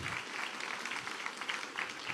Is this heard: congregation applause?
yes